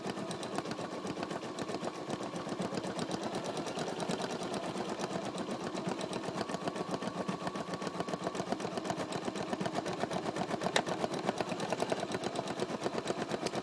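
A Bernina 640 embroidery machine stitches letters with a fast, steady mechanical whir and rapid needle chatter, continuous and close.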